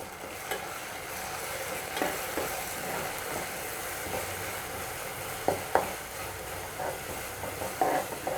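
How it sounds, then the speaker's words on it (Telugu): Stirring in a pan as coconut paste and ginger garlic paste are mixed for an eggplant and potato masala curry, with soft scraping and sizzling throughout and a few sharper spoon knocks against the pan, no talking. "కొబ్బరి పేస్ట్, అల్లం వెల్లుల్లి పేస్ట్ వేసుకొని కొంచెం కలుపుకోవాలి."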